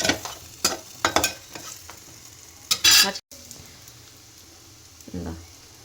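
Sarva pindi, a Telangana rice flatbread, sizzles and crackles in hot oil, with sharp bursts of spattering and stirring clatter, then a softer steady fry.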